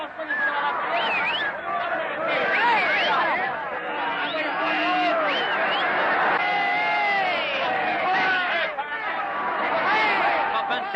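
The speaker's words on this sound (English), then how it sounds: "And how the crowd is greeting it." A large crowd celebrating the end of Prohibition in 1933 as bars and restaurants sell legal drink again, with dense chatter, shouts and whoops swelling into continuous loud cheering that holds for the whole stretch.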